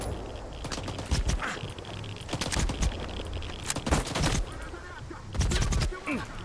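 Gunfire crackles through a STALKER 2 firefight in repeated loud bursts of rapid shots, separated by short pauses and layered over background game noise.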